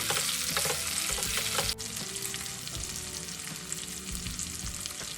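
Bitter gourd pieces fry in a pan while being stirred, giving a dense, continuous close sizzle with scraping and clattering stir strokes and no voices.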